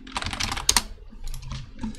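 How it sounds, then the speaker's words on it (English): Someone types on a computer keyboard in quick bursts of close, crisp clicks separated by short pauses, with no voices over it. "I'm just typing too"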